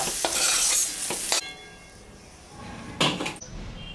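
Paneer cubes fry in a hot pan in a home kitchen. A loud sizzle with stirring knocks fades after a second or so, leaving a quiet stretch, then a short burst of sizzle and clatter returns near the end.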